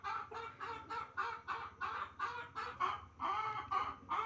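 Colourful backyard hens and a rooster on a small home poultry farm cluck steadily in a busy, overlapping rhythm, several birds close by with regular repeated calls and no talking.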